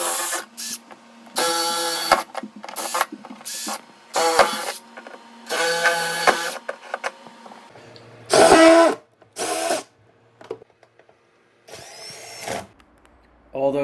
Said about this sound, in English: we're going to use a drill to put some holes in here and then screw down the base of the draft tower